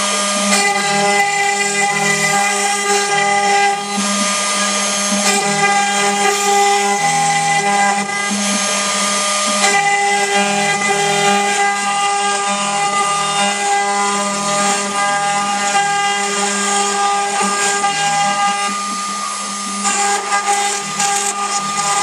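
A ShopBot CNC router runs continuously for over twenty seconds, a loud sustained mechanical whine with steady tonal harmonics from the spindle and small shifts in pitch as it cuts, with no voices.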